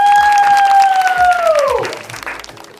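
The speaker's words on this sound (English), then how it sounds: "Please give a round of applause!" A crowd applauds at a yogurt product launch, a dense wash of clapping under a loud falling whoop from a voice in the first two seconds.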